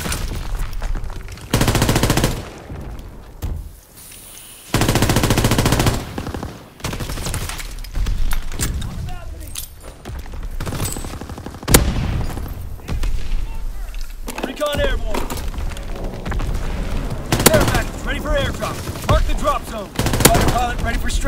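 Aircraft strafing-run gunfire in the video game Call of Duty: WWII: loud bursts of rapid automatic fire and heavy thuds that come in waves, with a voice talking in between.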